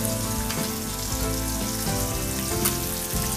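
Murrel fish frying in oil in a pan over a medium flame, a steady close sizzle and crackle that runs unbroken the whole time, with soft pops scattered through it.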